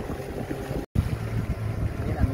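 Boat heading upstream on a river, its low motor rumble steady and continuous beneath wind noise, with a brief dropout partway through.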